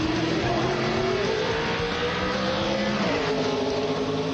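A V8 Supercar leaves on a hot lap during the 2002 Bathurst top-15 shootout, its engine note climbing steadily then dropping and rising again with a gear change, loud and continuous with no talk over it.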